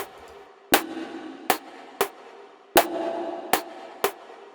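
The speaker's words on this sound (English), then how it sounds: "So when I combine this snare with the two rim tracks, it sounds like this" A processed snare drum layered with two rim tracks through a Gatekeeper gate: six sharp, gated hits at an uneven groove over a low sustained bed, close and alone.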